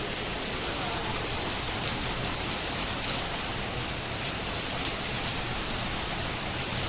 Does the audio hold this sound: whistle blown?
no